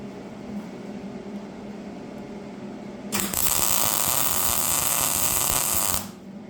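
Welding on a Craftsman power lawn edger: after a low hum, a loud, steady buzzing crackle of the arc starts abruptly and runs about three seconds before cutting off.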